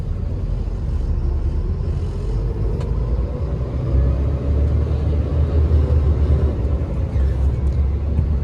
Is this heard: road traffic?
yes